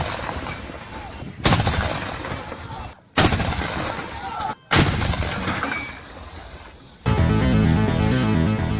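Loud, booming artillery fire from an AMX MK61 self-propelled gun with a 105 mm cannon, several heavy blasts separated by short gaps and cuts, filling the scene with broadband rumble.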